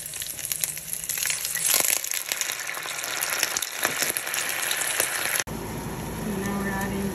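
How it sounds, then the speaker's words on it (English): Shallots sautéing in a pan for a salmon sauce, a loud continuous sizzle with crackling and stirring, ending abruptly and giving way to a different, quieter background. "this is the shallot. The onions. We're just gonna"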